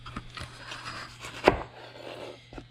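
A knife cuts the bottom off a green pepper on a cutting board, a single sharp chop standing out among a few softer, quieter knife taps.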